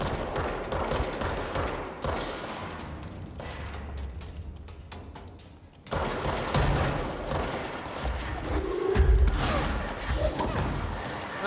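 Gunfire in the video game Control, bursts of rapid shots and heavy impact thuds clattering over several seconds amid game noise.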